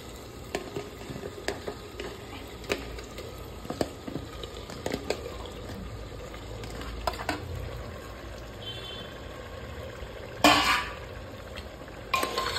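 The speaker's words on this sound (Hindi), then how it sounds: "तर आता आपण आपल्या याच्यात चिकन टाकू." Chicken added to an onion-tomato paste in a pressure cooker and stirred, giving a low continuous sizzle with scattered spoon scrapes and a louder clatter near the end.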